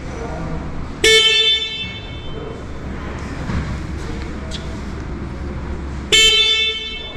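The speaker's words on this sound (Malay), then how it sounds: "Horn dia kuat." A QJMotor Fortress 350 scooter's horn blares twice, a loud, bright electric honk about five seconds apart, with a low idling rumble and faint background noise between the blasts.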